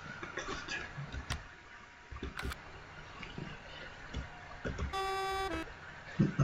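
Tractor horn in Farming Simulator 19 sounding once as a short steady honk near the end, heard over faint engine hum and scattered clicks.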